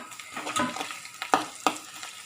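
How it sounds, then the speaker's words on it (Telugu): Cumin, mustard seeds, curry leaves, ginger and garlic frying in a pan, a soft close sizzle broken by a few sharp clinks and scrapes of stirring. "కొంచెం జీలకర్ర, తర్వాత ఆవాలు, కరివేపాకు, ఇవి కొంచెం వేగిన తర్వాత మనం దంచి పెట్టుకున్నటువంటి ఈ అల్లం వెల్లుల్లిపాయలు కూడా ఇందులో వేసేసేయండి"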